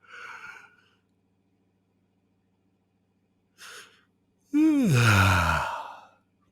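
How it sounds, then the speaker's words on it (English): A short breathy inhale, then a long, loud yawn with a voiced, falling groan, heard up close. "Try and get yourself to yawn."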